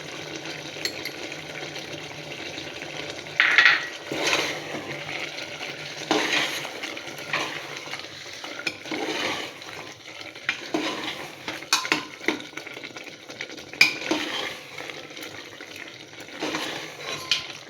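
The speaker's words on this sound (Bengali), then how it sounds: "আলুগুলো হালকা হালকা করে স্ম্যাশ করে দেবেন, তাহলে গ্রেভিটা ঘন হবে" Potatoes being lightly mashed and stirred in a pot of aloo chole curry, giving steady scraping and soft stirring sounds with occasional spoon clinks against the pan and a faint simmer underneath.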